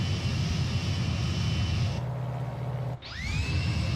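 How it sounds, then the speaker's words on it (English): Jet aircraft passing in Microsoft Flight Simulator 2020, a continuous engine roar and whine that briefly thins and cuts out before a rising high tone returns, close and fairly loud. "There's somebody coming by in a jet."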